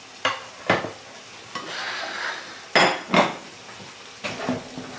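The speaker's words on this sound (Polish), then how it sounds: "albo tak jak ja przełożę rybę do naczynia żaroodpornego" Greek-style fish pieces are moved into an ovenproof baking dish with a utensil, giving about half a dozen sharp, close clinks and knocks of metal on dish, spaced irregularly over a soft background.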